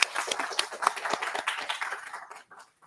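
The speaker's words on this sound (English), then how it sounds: "So a big round of applause for them" A conference audience at a valedictory session gives a round of applause, many hands clapping in a brisk crackling burst that thins out and fades to near silence after about two seconds.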